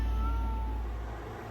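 A kenneled cat gives a thin, drawn-out meow, fairly faint over a steady low rumble of background noise during a house move.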